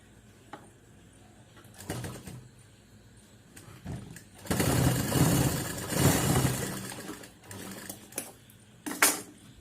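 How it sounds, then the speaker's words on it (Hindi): A sewing machine stitches a cloth face mask, with short whirring runs and pauses building to a longer, louder burst of stitching in the middle, heard alone and close. "ये हमने इस तरफ सिलाई लगा दिया। अब दूसरी तरफ भी इसी तरह लगाएंगे।"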